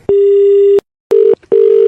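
After a phone call is hung up, a loud telephone tone plays: one long steady beep, a pause, then a shorter beep and another long one, clean and alone.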